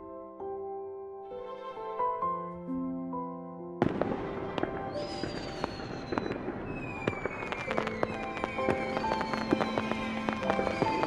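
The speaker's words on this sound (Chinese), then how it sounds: "外面在放烟火" Video game fireworks outside, opening under soft sustained tones, then a loud sudden burst followed by continuous crackling and popping explosions with rising whistles.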